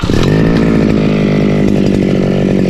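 A grass cutter's small petrol engine runs steadily, loud and close, with a buzzing, chainsaw-like drone that stays even throughout.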